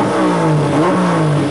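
A Turismo Carretera race car engine revving up and down while being tuned in the pits, a close, steady mid-pitched roar with rising and falling tones throughout and no talk.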